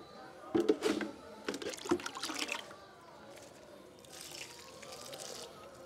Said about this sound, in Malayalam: നമുക്ക് നമ്മുടെ കോഴിവളം ഒഴിച്ചു കൊടുക്കാം